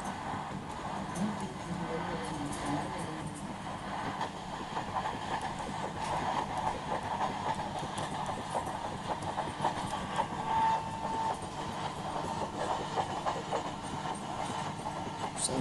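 Train passing on a railway in the Open Rails train simulator, the Kanpur special running at high speed, giving a continuous rumbling roar with dense rhythmic clatter of wheels over rail joints throughout.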